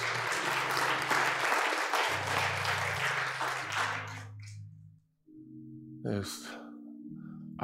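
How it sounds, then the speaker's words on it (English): A church congregation at a worship service claps in praise for about four seconds, the applause then cutting off, leaving organ or keyboard tones and a brief voice. "Let's give God a hand clap of praise."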